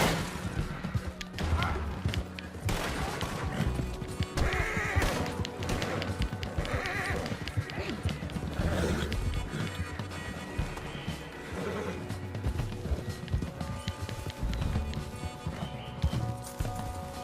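A horse in Red Dead Redemption 2 online neighs and whinnies over clip-clopping hooves, loud and close amid busy game noise, with shouting and impacts in the mix.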